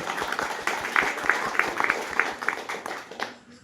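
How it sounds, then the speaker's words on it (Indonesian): An audience at a community Christmas gathering gives a short burst of scattered applause. The clapping is moderate and somewhat distant, mixed with crowd murmur and fading out toward the end. "Tepuk tangan dong."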